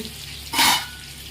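Sea fish fries in masala in a pan on a high flame, giving one short loud burst of sizzling in the middle, with a quieter hiss before and after.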